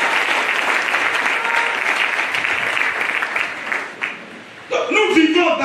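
A church congregation applauds loudly and continuously, a dense close wash of clapping that dips briefly near the end as a voice comes in.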